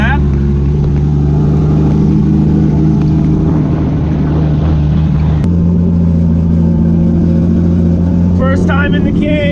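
A turbocharged BMW E30 drift car with a roll cage idles and rolls through a slow parade lap at a drift event, its engine droning loud and close with a brief shift midway and people talking over it.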